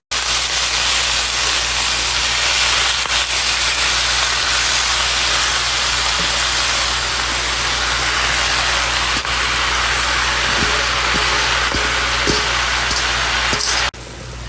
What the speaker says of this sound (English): I'm just going to continue to stir fry